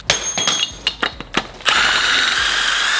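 A ratchet removes head bolts from a Subaru EJ20/EJ25 engine with a few sharp, separate clicks, then a long, loud, even whir as a bolt is quickly spun out.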